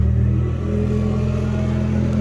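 An antique Brockway 158 truck with a 180C Cummins engine rumbles steadily as it drives, a loud, close, low and continuous engine drone with no talking.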